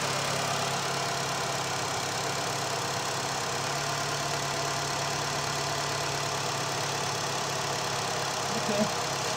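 A 2012 Honda Fit's 1.4L engine idles steadily after an oil and filter change, a constant low hum that stays even and uninterrupted, with no talking.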